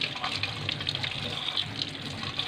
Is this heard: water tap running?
yes